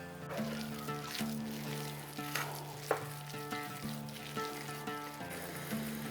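Stuffed pointed gourd (potol) fries slowly in a pan on a low flame, a steady soft sizzle with faint stirring and occasional clinks, close and continuous with no talking.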